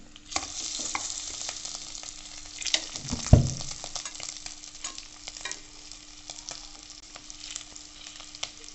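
Aloo tikki pieces are stirred through salt and coriander powder in a hot pan for an aloo chaat, making a steady low sizzle with scraping strokes and one louder clack near the middle, with no voices.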